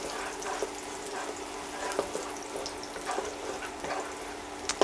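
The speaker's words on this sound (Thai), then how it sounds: "นี่เจียวให้มันหอมๆเลยจ้า" Garlic frying in a pan for Thai spaghetti with grilled pork, a soft continuous sizzle with scattered light crackles and occasional utensil clicks, fairly quiet and without talk.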